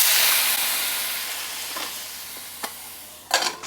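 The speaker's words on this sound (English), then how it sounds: "I'm gonna go in with a little bit of water with the onion so that they can start to saute instead of oil" Onions sauteing in a little water instead of oil in a covered pan, giving a steady soft sizzle and steam hiss that slowly fades, with a few brief clatters near the end.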